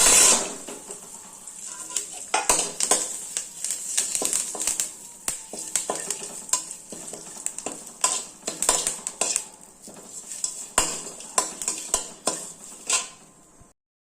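A handful of curry leaves frying and stirred in a pan for traditional sambar, with a spatula scraping and clinking against the metal in a steady, close rhythm over a faint sizzle. No one speaks.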